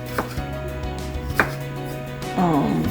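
A few crisp knife strokes chopping tomatillo on a cutting board at an uneven pace, with a low steady hum underneath and a brief scraping sound at the end.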